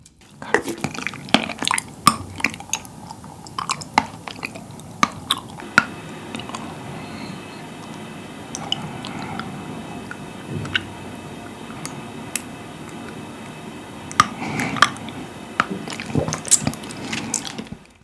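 Someone chews a mouthful of strawberry popping boba up close, with wet squishes, soft clicks and small pops scattered irregularly through the bites.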